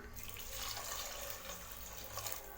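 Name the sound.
water poured into chickpea masala for gravy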